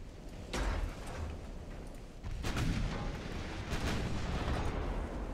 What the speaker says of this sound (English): That ship is just getting bombarded with 9-inch shells